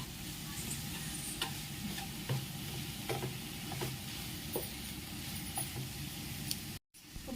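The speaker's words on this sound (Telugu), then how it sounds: "బాగా మిక్స్ చేసుకోండి బాగా మిక్స్ చేసుకోండి" Soft sizzling under repeated scraping and stirring of a cluster bean curry in a pan, with light clicks of a spoon at an uneven rhythm, close and fairly quiet.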